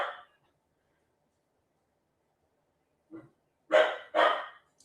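Dogs bark in a few loud, close bursts near the end, the last two strong and back to back, after a long silent gap.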